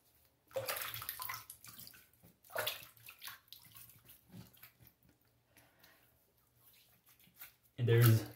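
Running water rinses a razor during a shave, loud bursts of splashing with quieter trickling between, alongside a brief louder clatter at the end.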